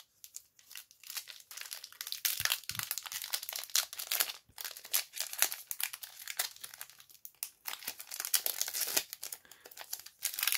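Pokemon trading card booster pack wrappers from a Pokemon Go Dragonite VSTAR Premier Deck Holder are ripped open, a close, busy run of foil crinkling and tearing with short pauses between bursts.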